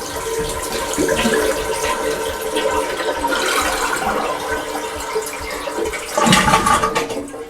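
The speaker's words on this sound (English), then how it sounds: "is flushing the toilet" A household toilet flushes to empty its tank during a leak repair, a steady rushing of water through most of the span that surges louder again near the end, close and alone with no talking.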